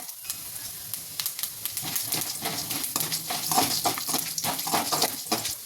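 Urad dal and spices sizzle and crackle in hot oil in a kadai, a dense run of sharp little pops over a constant hiss, close and fairly loud.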